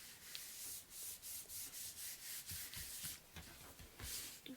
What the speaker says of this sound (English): I'm going to turn this over so I can kind of rub here